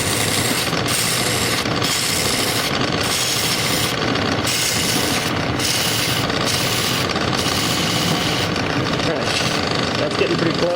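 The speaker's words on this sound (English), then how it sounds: "I'm switching to my bigger gouge" A large gouge cuts into a wooden chess piece being hand carved, giving a dense, loud, close scraping and chipping with recurring strokes throughout.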